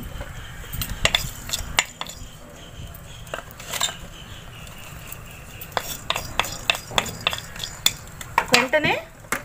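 Spices dry roasting in an oil-free pan for a country chicken curry, with repeated scraping and clinking of a utensil against the metal pan in irregular bursts, close by; no talking.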